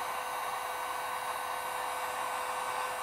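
A heat gun blowing steadily while shrinking heat-shrink tubing onto a heavy-gauge cable terminal lug, a continuous loud even hiss and whir with no variation and no talking.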